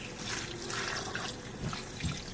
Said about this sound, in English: I think I will add some water at this point because I don't want it to burn at the bottom